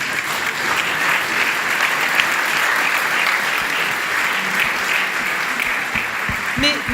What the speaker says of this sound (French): on se fait plaisir, on les applaudit